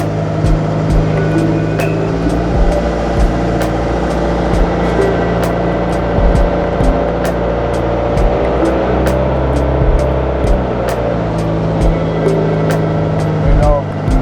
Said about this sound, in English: riding a riverboat right now